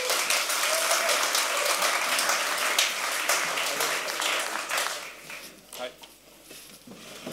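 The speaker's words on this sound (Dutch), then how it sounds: "Een hartelijk applaus voor Wim Daniels." A hall audience applauds warmly for a guest at a political café evening, sustained clapping that fades out over several seconds, with a speaker's voice continuing over it.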